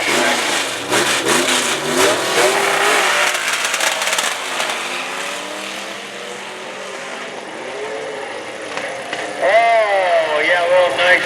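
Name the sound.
hot rod car engine revving at drag races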